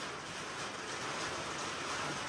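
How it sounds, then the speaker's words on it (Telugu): Heavy rain pours down in a steady, dense, even wash of pattering that fills the whole stretch, close and continuous with no voices. "టపటప ఇట్లా వస్తే ఘోరంగా కొడుతుంది వర్షం"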